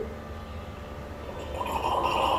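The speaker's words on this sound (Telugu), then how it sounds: "ఇప్పుడు వాటర్ పైకి లాగేస్తుంది" An Ecovacs robot vacuum draws water up with a steady close whooshing hum that swells louder and brighter toward the end, with no voices.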